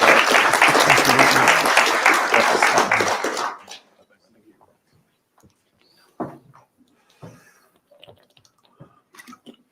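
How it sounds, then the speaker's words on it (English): A crowd at an evening public event claps loudly for about three and a half seconds, then the applause cuts off into near silence broken by a few soft knocks and shuffles. "big round of applause for Alex"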